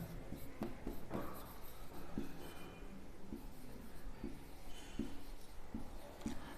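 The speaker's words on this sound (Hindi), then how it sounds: "आपको यहाँ पर लिखना है बाय पिकार्ड मेथड" Writing strokes on a board during a maths lesson on Picard's method, soft scratchy taps and scrapes recurring at a steady pace over a constant background hiss, close but quiet.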